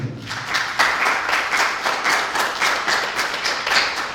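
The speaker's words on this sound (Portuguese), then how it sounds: "dê uma salva de palmas ao Senhor" A church congregation claps in a brisk, steady rhythm, many hands striking together in regular beats about four times a second, close and fairly loud.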